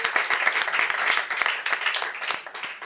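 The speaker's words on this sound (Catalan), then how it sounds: "Un aplaudiment també pel Salvadiscos" Scattered, moderately close applause and clapping from a small audience at a choral and cultural club event in Barcelona, irregular claps of medium loudness running throughout without speech.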